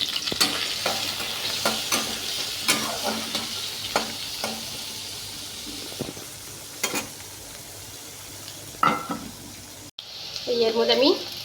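Soaked chana dal and arhar dal fry in a pan for lemon rice, with a soft sizzle and repeated clicks and scrapes from stirring, then a brief burst of other kitchen noise near the end.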